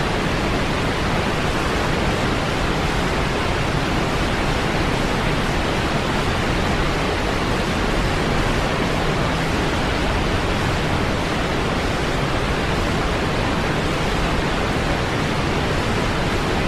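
A waterfall effect laid over silent film footage: a steady, dense rush of broadband water noise, loud and unbroken throughout with no voices.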